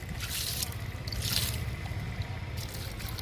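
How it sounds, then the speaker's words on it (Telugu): Water trickling and dripping onto a guava plant in a garden, a continuous close pour with soft splashy surges. "జామ మొక్కకి వాటర్ ఇస్తున్నాను,"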